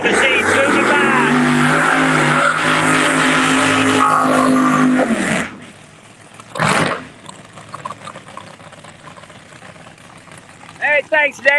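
A drag racing truck, the Cox Truck Machine, rolls past at Darlington Dragway, its loud harmonic engine roar holding steady for about five seconds before cutting off abruptly, followed by a brief whoosh and quieter track ambience.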